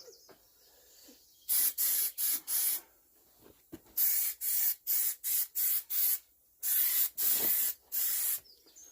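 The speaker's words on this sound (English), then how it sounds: "We've got ourselves a bit of Etch primer on there." Repeated short bursts of etch primer sprayed from an aerosol can onto an old John Deere 115 tractor, about a dozen hissing blasts of roughly half a second each, grouped in runs with brief pauses, close and loud with no talk.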